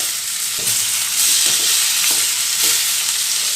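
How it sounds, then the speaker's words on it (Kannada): Tomatoes fry in a pan for a mutton curry, a loud close hiss of oil with repeated spatula strokes scraping through every half second or so, no voices. "ಈಗ ಟೊಮೆಟೊ ಸೇರಿಸ್ತೀನಿ ಸ್ವಲ್ಪ ಎಲ್ಲ ಚೆನ್ನಾಗಿ ಫ್ರೈ ಮಾಡ್ಕೋಬೇಕು"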